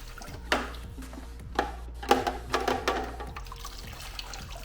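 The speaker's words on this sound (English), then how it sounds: "just dump this dirty water for now into this bucket" Dirty water drained from a Marineland canister aquarium filter pours and splashes into a bucket in a few uneven gushes over a low steady hum, fairly faint and close.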